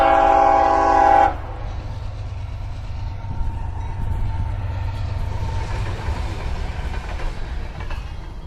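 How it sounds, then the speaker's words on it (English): A train on the railroad in Canton opens with a loud horn blast, then rumbles steadily past, its deep continuous roar and faint rail clatter filling the rest of the passage. "the train on the railroad rumbled on by"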